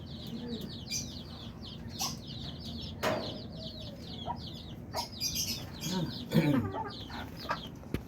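Black Australorp hens in a backyard poultry yard cluck softly and repeatedly at close range, with chirping birds in the background and a few louder squawks toward the end.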